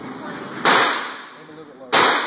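Two loud, sharp Glock pistol shots fired about a second apart at a shooting session, each a sudden cracking blast with a short ringing decay, the first trailing off slowly before the second.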